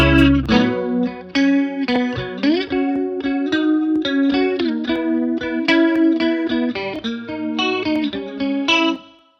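Electric guitar chords strummed through an amp with a chorus-like, slightly distorted tone, a lively rhythmic pattern ringing out under reverb before stopping.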